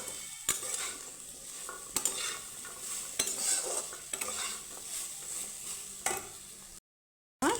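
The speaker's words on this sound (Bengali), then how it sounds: "কাঁঠাল বিচি ভাজা হয়ে গেছে" Jackfruit seeds coated in gram flour fry in a pan, a steady crackling sizzle broken by sharp scrapes and clinks of a spatula stirring, ending with a brief silence.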